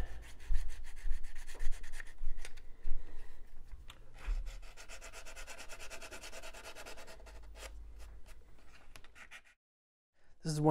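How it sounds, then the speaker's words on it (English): An emery board sands dried putty smooth on a post-apocalyptic face mask, making close, continuous scratchy rubbing strokes that run steadily for several seconds before stopping into silence. "Putty's had plenty of time to dry, so now I need to sand it smooth."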